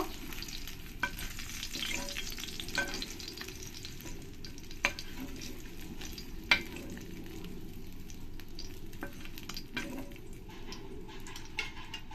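Small puti and mourala fish frying in oil, a steady close sizzle running throughout with occasional clicks and pops of stirring, no voices.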